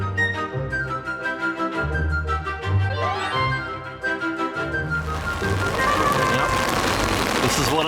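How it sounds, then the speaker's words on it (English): Steady rain pattering at Disneyland, dense and continuous, with music and voices mixed in; the downpour swells louder toward the end. "Just standing here in the rain"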